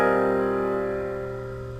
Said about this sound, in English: One popular sonority was a chord built on fourths.